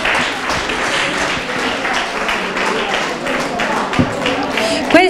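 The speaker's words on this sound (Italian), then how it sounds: "Un grandissimo applauso." Dense, sustained applause from an audience at a neighbourhood association evening event in Campobasso, continuous crowd clapping throughout, with a few louder knocks near the end.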